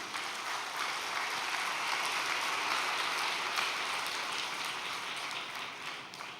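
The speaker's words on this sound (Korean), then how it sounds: "우리 김명대 회장님께도 감사의 박수 한번 부탁드리겠습니다." An audience in a hall gives a round of thankful applause for a chairman, a dense, even rain-like clapping that holds steady and fades slightly at the end.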